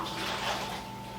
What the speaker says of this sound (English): I do like to pre-wet my soil. So I'm going to get a little water here